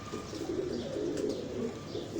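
A Prince Kamgar pigeon coos softly and continuously close by, in low, rolling murmurs with faint background noise.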